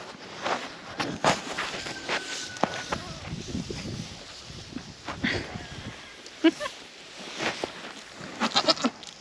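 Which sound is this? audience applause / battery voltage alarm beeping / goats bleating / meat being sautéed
goats bleating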